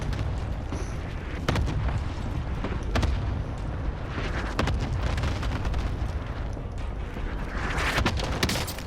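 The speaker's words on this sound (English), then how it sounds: "Bringing down an airstrike." Airstrike explosions in the Call of Duty Warzone video game, a dense run of booming blasts and pops rolling continuously over several seconds.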